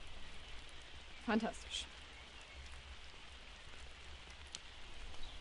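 Rain falling steadily on a meadow, a soft, even patter in the background, with a brief spoken word over it.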